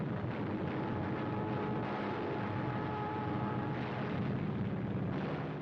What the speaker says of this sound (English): The planes take off on a daring battle mission to blast Jap bases